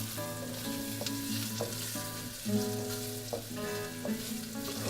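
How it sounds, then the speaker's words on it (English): Turmeric, salt and hot pepper are stirred in a hot frying pan with spices such as cumin, giving a steady close sizzle with repeated scraping strokes of the utensil across the pan. "turmeric, a little salt, our hot pepper. And I'll quickly stir this."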